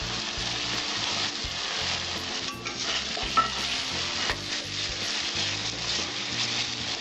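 Spice masala with cinnamon, clove and cardamom fries in a pan for pomfret fish curry, a steady close sizzle with rhythmic scraping strokes of a spatula stirring throughout, no voices.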